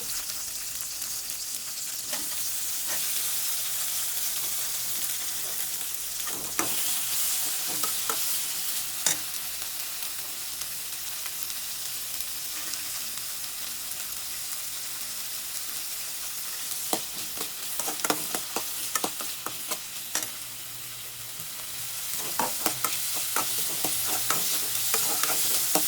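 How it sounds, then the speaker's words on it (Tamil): Onions and tomatoes sauté in a pan for a traditional chutney, a steady sizzle running throughout with repeated scraping stir strokes that grow busier toward the end. No voices. "வெங்காயம் வதங்கின உடனே தக்காளி போட்ட உடனே எல்லாத்தையும் ஒன்று போட்டு வதக்கணும்"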